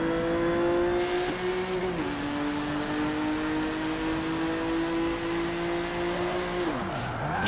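A car's engine drones loud and close while drifting in Forza Motorsport 7, holding a steady high rev with brief dips as gears shift, tires hissing underneath, and no voices.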